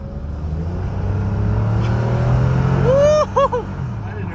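A 1995 Chevrolet Monte Carlo pace car with the Series 2 3800 V6 accelerating, a sustained engine drone from inside that climbs in pitch before a sharp upshift near the end, with an exclamation heard over it.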